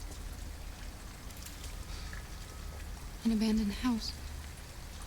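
Steady rain falls in the video game Detroit: Become Human. The soft, even patter continues throughout while a voice speaks briefly over it near the end.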